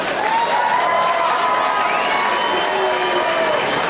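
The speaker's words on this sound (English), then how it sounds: "applause for these young men." A loud fight-night crowd applauds and cheers for two young fighters after three rounds, with whistles and shouts over a continuous roar of clapping that holds steady throughout.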